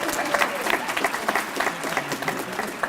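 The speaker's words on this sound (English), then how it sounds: "let's give another round of applause to them" A crowd at a student leadership awards ceremony applauds, dense and loud clapping that continues steadily from start to finish with a faint murmur underneath.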